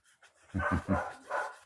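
Several dogs worked up indoors, giving three quick close barks in a row followed by a further bark or yelp, with faint panting and breathing between them.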